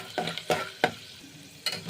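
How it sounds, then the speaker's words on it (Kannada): Chana dal frying in oil in a pan with peanuts for upma, a close crackling sizzle broken by several scraping stirs of a spoon, no voices. "ಅದರಲ್ಲೇ ಹುರ್ಕೊಳ್ಳೋಣ ಕಡಲೆಬೇಳೆ ಹಾಕಿ"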